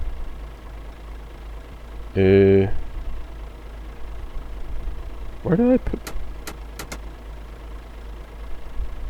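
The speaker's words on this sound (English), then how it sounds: "Why is the engine not turning off?" A truck engine idles in Euro Truck Simulator 2 as a steady low drone running throughout, with someone talking over it and a couple of brief louder bursts.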